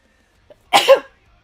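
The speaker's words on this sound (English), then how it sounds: "Oh god, I can feel the sneeze coming." A single sharp sneeze, close and loud, preceded by a tiny intake of breath, then quiet.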